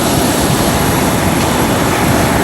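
Steady, loud airplane engine drone inside the passenger cabin before takeoff, a dense constant roar that fills the whole stretch without letting up, with no voices over it.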